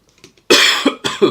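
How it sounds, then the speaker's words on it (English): A burst of harsh coughing, two or three loud, close coughs in quick succession after a moment of quiet breathing. "My cough is starting to come back."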